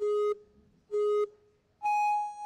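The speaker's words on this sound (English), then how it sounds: "you will hear the start tones. It will sound like this." Three electronic beeps: two identical mid-pitched tones with a pause between, then a longer, higher final tone, clear and loud.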